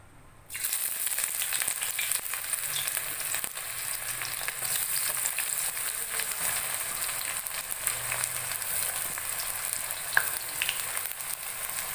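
Onions dropped into hot oil in a kadai, a sudden burst of sizzling that stays loud and steady throughout, with faint stirring underneath and no voices.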